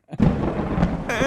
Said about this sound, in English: there's this crazy peal of thunder that wakes her up